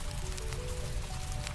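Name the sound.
white noise rain sound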